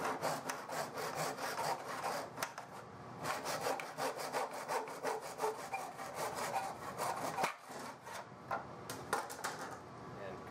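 A hand saw cuts through a 5 1/4 inch section of wood, marked with inch markings, for a Master Sword prop: steady, rapid back-and-forth rasping strokes, close and loud, with a brief pause near the end.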